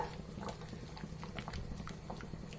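A pot of pomfret fish curry bubbles at a low simmer, soft irregular pops and gurgles over a steady low hum, with no talking.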